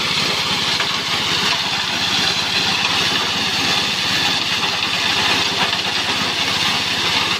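The engine of a JG 125 multipurpose grass chopper machine runs continuously with a loud, steady, rough mechanical drone and no pauses, heard close by without talking.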